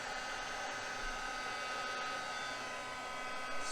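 A heat embossing tool blowing a steady, hissing hot-air whoosh as it melts embossing foil on a card, constant and close throughout.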